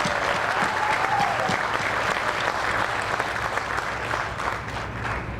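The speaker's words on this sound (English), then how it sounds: "I want to give a round of applause to our Park District" Sustained audience applause at an outdoor Proud American Days military tribute, a steady wash of clapping from a large crowd that holds strong for several seconds with no voices over it.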